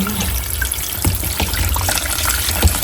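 Vegetables are rinsed under a running kitchen tap, water splashing and trickling steadily with small knocks and handling sounds, close and fairly loud, no talking.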